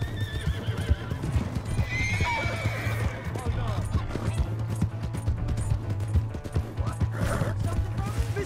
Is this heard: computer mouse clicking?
no